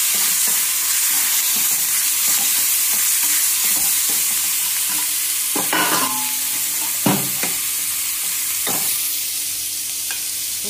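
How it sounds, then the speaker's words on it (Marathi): Onion fries in a pan with a loud, steady sizzle that carries through the whole clip, along with a few stirring scrapes and clinks partway through and no talking. "कांदा भाजायला लागला"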